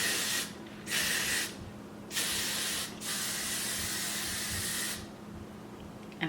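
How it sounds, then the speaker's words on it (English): Hairspray hisses onto hair in four bursts of varying length from an aerosol can, with short pauses between them, close and clear against a quiet room. "so now I'm gonna spray my hair before I comb them out"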